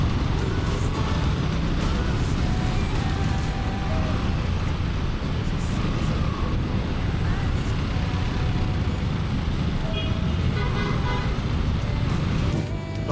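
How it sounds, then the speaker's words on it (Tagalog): Dense road traffic heard from a KTM motorcycle riding through Sucat on a morning commute, a loud continuous roar of engines and road noise with no pauses. "Napaka-traffic talaga ngayon."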